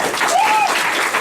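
A panel audience at a gaming convention claps for Mario in a brief, dense burst of applause. A voice rises briefly over the clapping.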